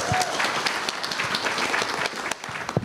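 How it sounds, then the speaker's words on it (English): Audience applause at a vintage computer festival live show, a brief burst of many hands clapping, moderately loud and fairly close, thinning slightly toward the end. "Give a big round of applause."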